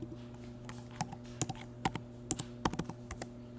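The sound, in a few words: typing on a computer keyboard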